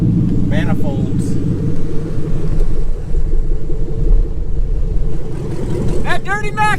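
A truck with a Gen 5 engine swap rumbles loudly and steadily from inside the cab, its deep throaty drone holding throughout while people talk over it.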